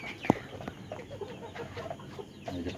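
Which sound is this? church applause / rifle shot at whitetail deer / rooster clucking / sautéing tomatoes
rooster clucking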